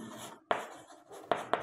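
Numbers are written by hand during a math lesson, with soft scratchy pen strokes broken by three sharp taps as the pen strikes the surface, close and fairly quiet.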